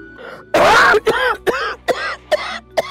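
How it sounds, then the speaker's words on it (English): A woman coughs in a harsh burst, then gives several shorter, strained coughs in quick succession, close by. "Mama, you have to stop coughing."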